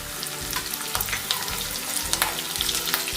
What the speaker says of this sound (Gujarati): આપણું તેલ ગરમ થયેલ છે, આપણે તેમાં રાઈ એડ કરીશું।